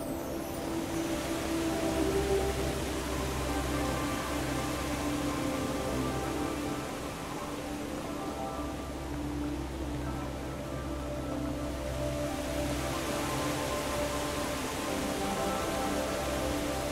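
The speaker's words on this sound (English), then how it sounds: "A little bit of rain at the moment" Light rain falls steadily in a granite-walled Alaskan anchorage, a soft, even hiss near the microphone with a low, constant hum beneath and no voices.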